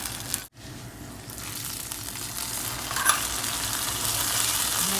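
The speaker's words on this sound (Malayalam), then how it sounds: "അണ്ടിപ്പരിപ്പും മുന്തിരിങ്ങയും വറുത്തെടുക്കാം." Cashews and raisins fry in hot ghee for a payasam, a continuous close sizzle with soft stirring scrapes, briefly cut at the start and then steady.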